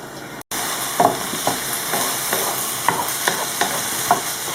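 Moroccan purslane salad cooks in a pan over medium heat, giving a steady close sizzle with occasional scraping stirs and small pops, no voices.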